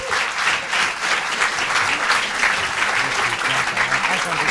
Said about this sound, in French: Je vous demande d'applaudir l'humour pertinent